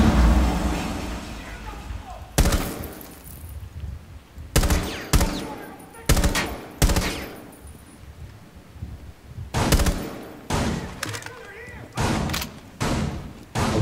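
Gunfire in Rainbow Six Siege comes as a series of sharp, loud bursts and single shots spaced irregularly across the stretch, with quieter gaps between them.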